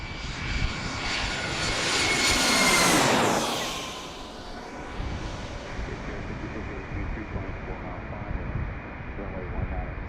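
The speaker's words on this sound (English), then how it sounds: "Right there, the jet blast is hitting me." Jet engine blast from a departing aircraft at DCA airport swells into a loud, roaring sweep with a falling whine, then settles into a steady windy rush, heard close over an outdoor microphone.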